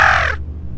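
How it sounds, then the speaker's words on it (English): A single loud, harsh crow caw rings out close in a horror video game, cutting off sharply and leaving near silence with a low hum. "Or was that a fucking mythical owl crow?"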